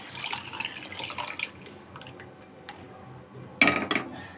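Hot water poured into a pan while cooking bara and ghugni, an Odia dish, in a home kitchen: a splashing pour over the first second and a half, a quiet gap, then a short louder burst of liquid near the end.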